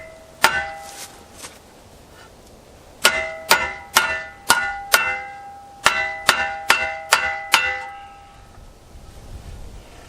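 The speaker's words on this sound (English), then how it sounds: "now we can use the anvil on the back of our vise" A shovel handle hammered on the anvil of a vise: sharp, ringing metallic strikes with a bell-like decay, one early blow and then two quick bursts of five or six, loud and close with no talk.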